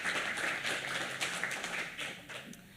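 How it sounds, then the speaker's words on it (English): Applause from an audience at a boards and commissions retreat meeting, a steady spread of moderate clapping that holds for a few seconds and then tapers off. "So round of applause for our traffic."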